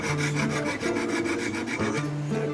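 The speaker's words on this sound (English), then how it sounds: "Okay, so that's the sawing aspect done." A fine jeweller's saw rasps back and forth through the metal claws of a diamond setting, a close, continuous gritty scraping in a fast, even rhythm with no talk.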